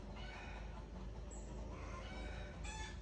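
Chickens cluck in short, scattered calls at a moderate distance over a steady background hum, with no one speaking.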